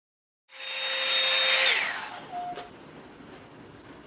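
A Revlon One-Step hair dryer brush blows near and steady with a whirring motor hum for about a second and a half, then switches off and winds down, leaving faint background noise.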